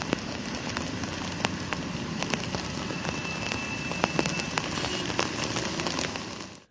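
Heavy monsoon rain pours down in Mumbai, a dense steady hiss with sharp drops and pattering hits on surfaces, continuous and fairly near before fading at the very end.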